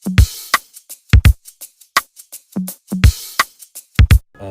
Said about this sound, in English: I found these shakers.